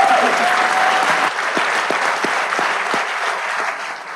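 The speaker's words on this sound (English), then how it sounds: "Let's give them a round of applause." An audience applauds steadily for the Aventura City Commission at a 2022 swearing-in ceremony. The clapping is dense and sustained, easing slightly toward the end.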